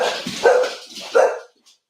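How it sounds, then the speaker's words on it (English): Dogs bark in a home kitchen, two loud close barks about a second apart, then silence. "Apologies for the dogs. I don't know what they're barking at."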